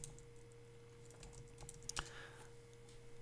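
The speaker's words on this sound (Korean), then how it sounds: "입력을 하고 엔터키를 넣어서 이렇게 아래쪽에 입력된 거 확인하시고요" Light, quiet typing on a computer keyboard, a scattering of soft key taps, then a sharper press of the Enter key near the end, close by over a steady electrical hum.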